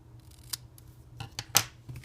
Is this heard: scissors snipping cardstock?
yes